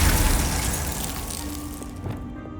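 A Glacius ice spell cast in the Hogwarts Legacy video game, a dense, rumbling whoosh of magic that stays loud and steady before thinning out at the end.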